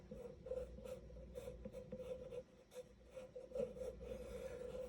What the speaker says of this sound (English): So I'm just going to draw the shape here